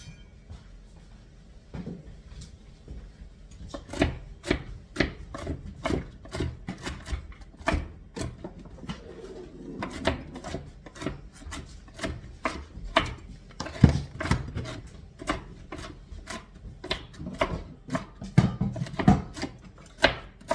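A knife chops pecans coarsely on a cutting board for pumpkin-pecan biscuits, with steady, rapid, sharp knocks that begin after a few seconds of quieter handling and continue through to the end.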